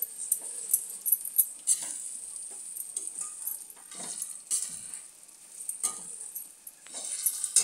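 Spiced raw mango pickle being stirred and mixed by hand gives a run of soft, irregular scraping and clinking strokes with a gentle hiss, close and fairly quiet, with no talk.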